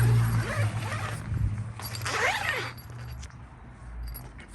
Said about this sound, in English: Zips open